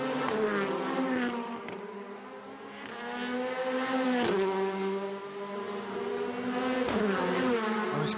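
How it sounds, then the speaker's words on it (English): Touring car engine from a WTCC race in Portugal, revving high with harmonic sweeps that drop sharply at each crisp upshift, two or three gear changes in quick succession, loud and continuous with no talking. "Nice crisp engine note on the upshift."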